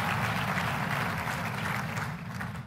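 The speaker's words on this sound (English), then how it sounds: "How about a round of applause for all of you?" Sustained applause from a large Moms for Liberty national summit audience, a dense, steady wash of clapping that fills the room evenly and tapers slightly toward the end.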